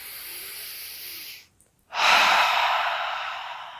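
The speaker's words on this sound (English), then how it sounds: "taking a cleansing breath in through the nose and out the mouth" A slow cleansing breath during a morning yoga stretch in bed, drawn in through the nose and let out through the mouth: a steady airy inhale, a short silent pause, then a long, close, breathy exhale that slowly fades.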